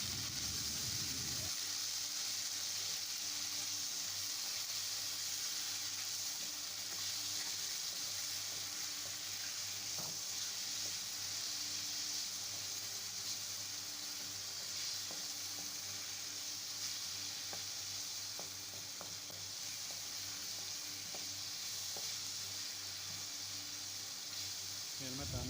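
Normal bone-in chicken pieces fry in a pan until lightly browned, producing a steady close hiss and sizzle with occasional stirring clicks, holding for about twenty-five seconds.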